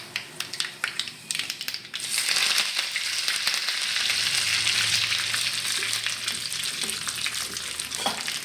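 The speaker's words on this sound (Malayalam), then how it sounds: "അപ്പോൾ ആ ചട്ടി ചൂടായി നമുക്കിതിലേക്ക് കുറച്ച് കടുക് ഇട്ട് കൊടുക്കാം." Mustard seeds hit a hot pan for a green pea curry, starting with a few crackles and turning after about two seconds into a loud, steady sizzle full of pops and spatters that runs to the end, with no talking.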